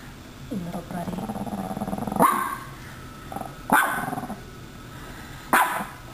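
A dog growls and then gives three sharp barks, close and loud, with short pauses between, while someone talks nearby.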